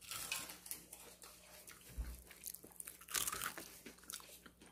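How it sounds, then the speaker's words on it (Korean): Crisp crunching bites into homemade crispy fried chicken, close up and quiet, with several crackly chews in quick succession. "이것도 바삭한데요?"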